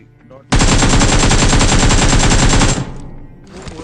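Loud sustained automatic gunfire from a military shooting video game, a dense rapid burst of about two seconds right up close, then cutting off into quieter background game sound.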